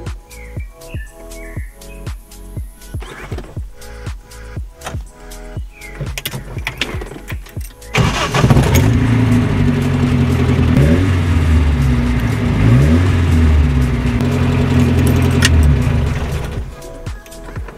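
A Datsun with a small 1200 cc four-cylinder engine cranks and starts after a stretch of clicking and birdsong, then idles loudly and close up with a few revs before cutting off.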